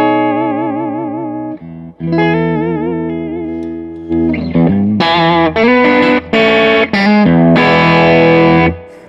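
Distorted Fender electric guitar plays sustained chords and a run of short stabbed notes, loud and gritty with a saturated, buzzing tone.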